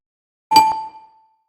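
A notification bell gives a single clear ding that rings out alone against silence and fades over about a second.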